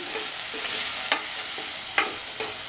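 Sambar powder sautéed in a pan for hotel-style sambar, stirred steadily: a soft continuous sizzle with a few sharp scraping spatula strokes, close by and without voices.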